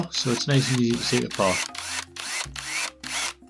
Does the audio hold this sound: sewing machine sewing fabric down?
no